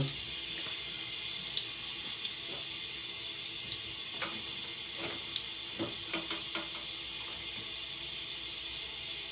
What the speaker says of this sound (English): So I'm gonna have just a little drizzle here of water.